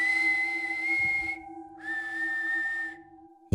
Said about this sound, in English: That night, the whistles started.